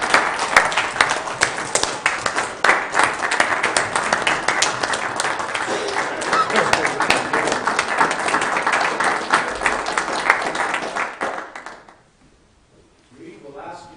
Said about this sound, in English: Will you join us in giving Reed and Martha a round of applause